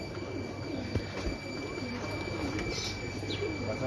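Fancy pigeons in a Lahore loft coo softly over steady background hum, with a few faint chirps scattered across the stretch.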